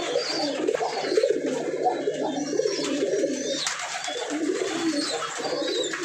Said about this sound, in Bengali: এই জায়গায় কিছু বাচ্চা কবুতর, বড় কবুতর আছে